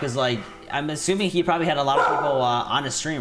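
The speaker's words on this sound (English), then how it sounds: "Sorry about the dog." A dog barks and yips repeatedly in short bursts close by, mixed in with someone talking over it.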